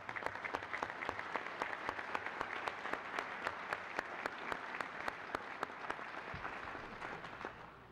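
Sustained applause from an audience at a fire commission awards ceremony, steady dense clapping with a few sharper nearby claps, fading slightly at the end.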